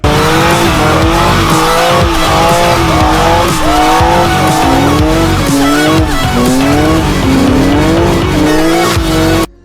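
A car revs hard while its old tires squeal continuously in a loud burnout at a burnout competition, the engine roaring and the screech wavering throughout before cutting off at the end.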